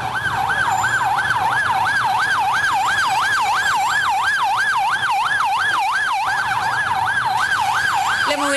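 An ambulance siren wails continuously in a Medellín traffic jam, its rising and falling tone loud and close over a steady traffic rumble, with no speech.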